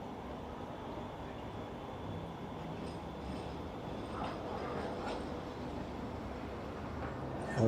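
Manchester Metrolink tram rolling down Balloon Street toward Victoria in the city centre, a steady low rumble of wheels and motor with faint rail squeals, fairly distant and continuous.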